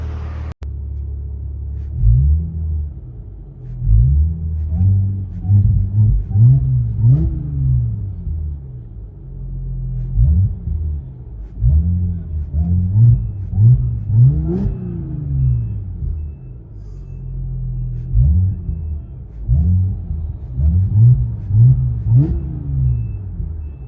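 A 2015 Audi S5 with a stage 2 tuned 3.0L supercharged V6 and ECS cat-back exhaust revs repeatedly, loud and close, each blip rising sharply and falling back to a deep idle rumble, with no talk.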